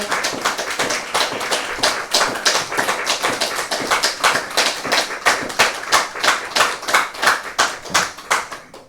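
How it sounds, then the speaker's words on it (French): A church congregation at a national service claps for parents in a rhythmic, unison beat, loud and close, steady taps repeating about twice a second with no voices over them. "On applaudit les vrais parents."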